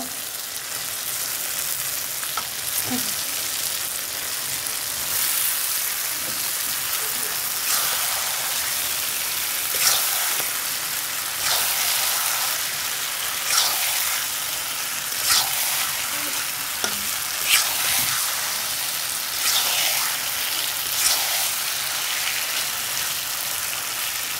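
Pieces of ash gourd frying in a hot pan, giving a steady close sizzle with occasional crackles and stirring scrapes throughout.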